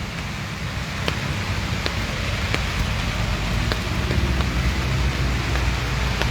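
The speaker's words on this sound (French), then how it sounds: "Le genre de pluie, c'est la pluie pour dormir" Steady, dense rain falling, a continuous hiss with a low rumble beneath it and faint scattered ticks, unbroken from start to finish.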